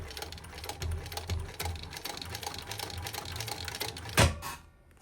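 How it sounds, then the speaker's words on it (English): A sewing machine stitches steadily with a fast mechanical whir and rhythmic needle clatter, ending with a short louder clunk before stopping. "All right, and sew down that seam allowance."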